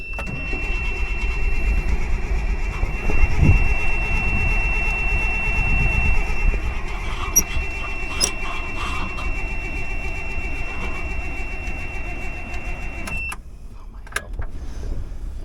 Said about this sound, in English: Well, it don't want to start again.